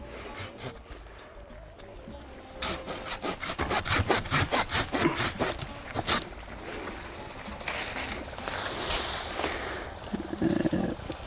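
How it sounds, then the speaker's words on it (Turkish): A plum tree branch being sawn through above a bud graft, a run of quick rasping saw strokes up close in the middle, with softer cutting and rustling around it outdoors. "Şimdi ben buradan yaklaşık 10 santim 12 santim yukarıdan kesiyorum."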